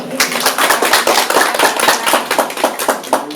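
Audience applause at a Nepali serial's anniversary honouring ceremony, a dense burst of brisk clapping from a crowd that runs evenly throughout, fairly close and loud.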